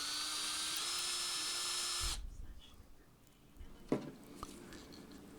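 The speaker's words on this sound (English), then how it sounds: "So let's drill some small holes" A small drill bores tiny holes in a piece of scrap wood for a hand crank, a high whining spin lasting about two seconds before stopping, followed by quiet handling and a light knock.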